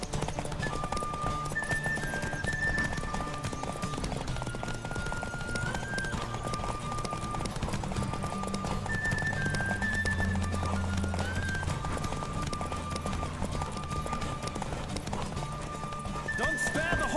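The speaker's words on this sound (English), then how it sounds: "Don't spare the horse!" A horse's hooves clip-clop steadily at a gallop in The Witcher 3 video game, under continuous music and ambient game sound, with occasional snorts.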